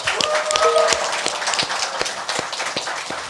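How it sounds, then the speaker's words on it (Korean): A small studio audience claps to open a Korean current-affairs talk show, with scattered, uneven hand claps and a brief whistle-like tone, fairly close and moderately loud. "여러분의 힘찬 박수와 함께 시작하겠습니다"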